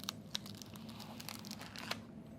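A vinyl sheet is peeled up off its backing, giving quiet, close crackling and tearing with a few sharp ticks scattered across a soft continuous rasp.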